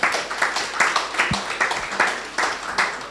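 Scattered clapping from a small room audience at an energy-sector panel session, uneven pulsing claps rising and falling, fairly close, with a few sharper individual claps.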